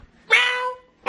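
A pet cat meows once, a clear, close, drawn-out call lasting about half a second, followed by the start of a second meow at the very end; no talking.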